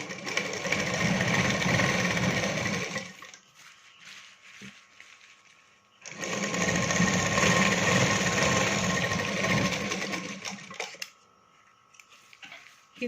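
An electric sewing machine stitches a lined katori blouse in two loud, steady bursts of rapid mechanical whirring, separated by a quieter pause with faint handling noises, and no talking.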